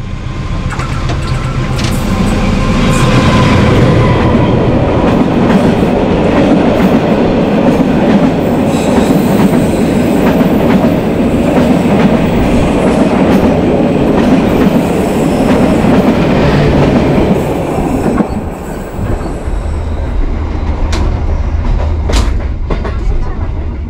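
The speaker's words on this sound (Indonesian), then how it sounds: "Kereta api Serayu tiba di stasiun Cilame." The Serayu train rumbles past nearby on the rails arriving at Cilame station in Indonesia, a heavy sustained roar with metallic rattling that fades near the end.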